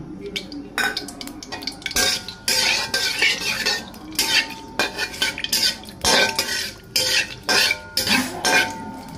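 A spoon stirs and scrapes cardamom, cinnamon and bay leaf frying in hot oil in a pot for mutton bhuna, with loud, irregular metallic clanks over a faint sizzle and no voices.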